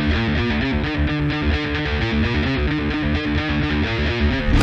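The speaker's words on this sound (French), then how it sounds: "Le thème de la guerre du futur se confond avec celle de Kyle Reese" Orchestral-electronic film score excerpt from the Terminator future war theme, a loud, dense and driving passage with pounding low rhythmic pulses and sustained layered tones throughout, no voices.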